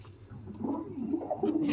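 A pigeon coos softly and repeatedly at close range, low rolling calls with faint rustling.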